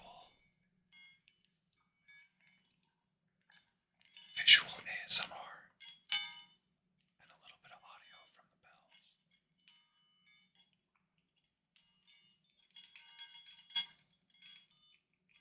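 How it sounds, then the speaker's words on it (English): Small bells inside balls jingle in a few short, bright bursts separated by near silence, with a soft whispering voice faintly heard between them. "You can hear the bells inside the balls."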